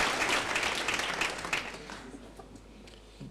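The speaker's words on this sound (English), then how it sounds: "Give them a round of applause." Sustained crowd applause at a May 2023 university graduation ceremony honouring the graduates, a dense wash of clapping from a large audience that gradually thins and fades.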